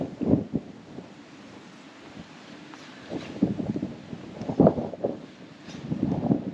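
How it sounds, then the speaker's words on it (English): Wind gusts across an open fishing lake on a wet winter day. Rough buffeting bursts rise and fall in uneven waves, loudest near the start and again toward the end. "Wind's got up now and all."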